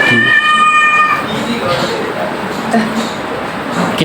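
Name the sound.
cat meowing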